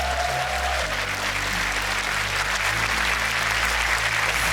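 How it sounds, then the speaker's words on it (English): Steady, loud applause from a large audience at a furry convention show fills the whole stretch, dense clapping without pause. "Give them a round of applause as well, yeah?"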